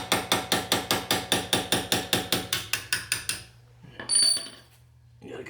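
A hammer taps a part through the brake caliper of a 2019 C7 Corvette Grand Sport during a brake pad change. About sixteen quick, evenly spaced metallic taps ring out close by, then stop, leaving a quieter stretch with a few faint clinks.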